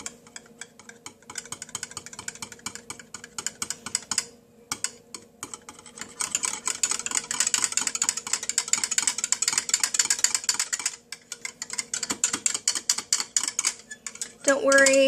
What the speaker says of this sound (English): I'm just going to add enough of the yogurt to make a cup. And then you're just going to whisk it in.